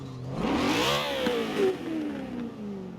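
BMW M3 GTS engine starting up in the racing game Forza Horizon 4, a quick crank followed by a rising rev that flares and then settles into a lower idle, moderately loud with no voices.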